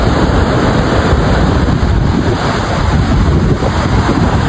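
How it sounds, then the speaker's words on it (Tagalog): Large sea waves churn and roar continuously after a typhoon on the coast of Aurora, Philippines, a loud, unbroken surf wash mixed with heavy wind buffeting the microphone. "Tingnan nyo guys yung mga alon."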